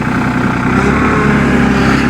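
A farm tractor's engine runs loud and close with a steady, unbroken rumble, at a snowy pig pasture where fence posts are being pulled.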